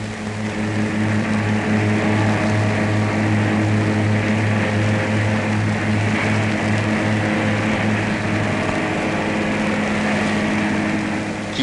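A loud, steady Peugeot car engine drone on a factory test bench in 1957, with a constant pitch and strong low hum, running unchanged and alone for over ten seconds.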